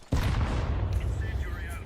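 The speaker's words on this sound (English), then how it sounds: "Throwing flashbang." A flashbang grenade goes off in Counter-Strike 2 with a sudden loud bang. A long roaring rumble follows while a voice speaks faintly underneath.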